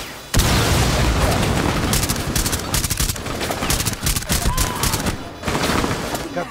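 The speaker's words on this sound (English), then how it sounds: "Suicide bomber. Going to the doorway. Nope, he's blowing up that." A suicide bomber's blast rips through the Hereford Base terrorist hunt in Rainbow Six Siege, a loud explosive burst followed by sustained rapid gunfire and crackling debris. The chaotic mix stays dense and close throughout.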